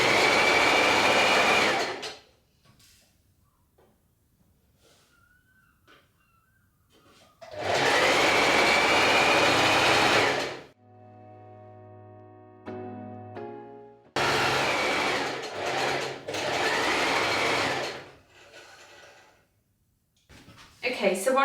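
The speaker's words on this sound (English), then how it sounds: "This time we're going to back stitch at the beginning and end to secure the stitch." A sewing machine back stitches fabric panels of a tiered gathered skirt in three loud bursts of steady whirring, split by quiet pauses with soft handling clicks and a brief low hum.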